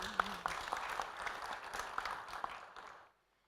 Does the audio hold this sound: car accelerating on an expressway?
no